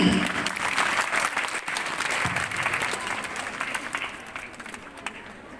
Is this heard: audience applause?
yes